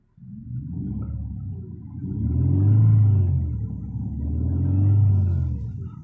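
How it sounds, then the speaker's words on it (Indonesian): A luxury Infiniti sedan's engine revved twice while parked, each rev swelling into a deep low rumble and easing back down, close by and steady, with no talk. "Mari kita gas-gas sedikit ya."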